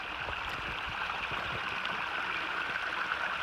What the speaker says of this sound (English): So there's a little mini waterfall there.